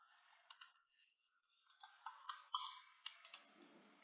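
A computer mouse clicks through bioreactor control software in a quiet room, giving a string of faint, sharp, irregular clicks and taps up close.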